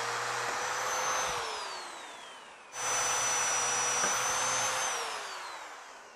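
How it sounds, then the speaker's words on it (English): A power drill bores into dense concrete used for rock planting, whining steadily in two long runs that each slowly fall in pitch as the motor loads, with a brief pause between them. "We won't know until we start drilling how dense the concrete is"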